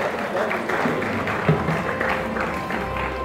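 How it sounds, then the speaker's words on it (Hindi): Audience applause at an Indian award ceremony honouring the Silkyara tunnel rescuers, a steady wash of clapping that runs throughout alongside speech. "इन तमाम लोगों की जो तालियों की गड़गड़ाहट है वो आप लोगों के लिए है"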